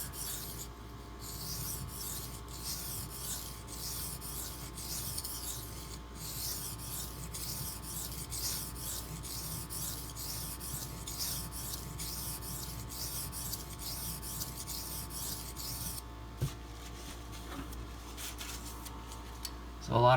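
Benchmade Mini Crooked River knife drawn along a sharpening stone, a close, rhythmic series of short scraping strokes repeating steadily, with someone talking quietly in between.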